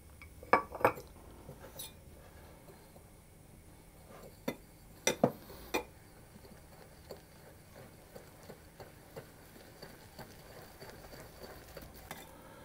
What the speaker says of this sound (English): So I'll put the egg yolks in and I'm going to whisk that until it's a thick paste.